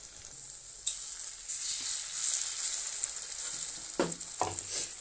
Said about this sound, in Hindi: इन सभी शिमला मिर्च के पकौड़ों को अच्छे से तल लेना है